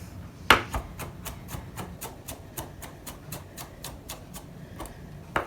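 A knife rough-chops an ingredient on a cutting board while making pea soup, giving a steady run of sharp, close taps about every third of a second with no talk.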